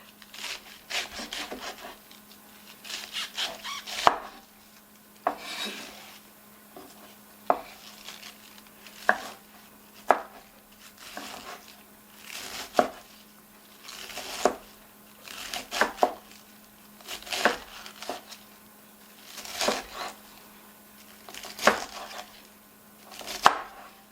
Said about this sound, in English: And then I can chop the cabbage in little pieces.